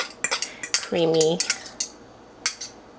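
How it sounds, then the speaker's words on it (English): A utensil mashes rosemary, thyme and garlic into butter in a bowl for a turkey, giving sharp metallic clinks and taps at an uneven pace, with a brief squeaky scrape in the middle. "I'm just going to mash all this together to make one creamy"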